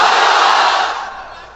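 A large crowd of unmarried men at an Islamic religious gathering shouting the takbir chant in unison, a loud, dense roar of voices that fades away over a second or so.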